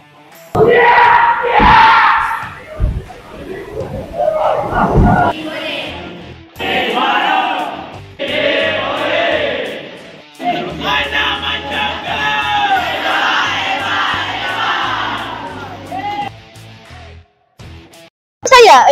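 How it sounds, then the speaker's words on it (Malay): Friends and teachers cheer and yell loudly at a school tenpin bowling tournament, with bursts of whoops and shouts swelling and fading among crowd chatter. "Sorakan daripada rakan-rakan dan guru-guru menambahkan lagi suasana meriah di sini."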